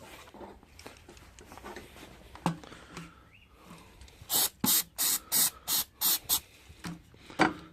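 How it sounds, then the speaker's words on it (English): A spray bottle fires in quick repeated bursts, about eight short hissing sprays of liquid onto a sponge in a row, preceded by a few softer handling sounds. "we'll spray it thoroughly, and then we'll spray on top of it"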